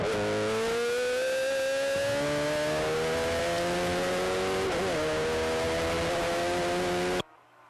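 A racing car at Kirkistown circuit drives through the hairpin in a Sevens Challenge race, its engine droning loud and close in a long steady pitch that slowly rises, with a brief wobble midway before cutting off.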